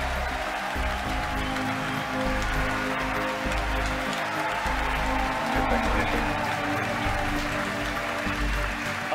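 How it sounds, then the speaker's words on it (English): Crowd cheering at a SpaceX Falcon Heavy launch: a dense, steady roar of many voices that fills the whole stretch, with a deep low rumble underneath and a voice talking over it. "Again, over the cheering"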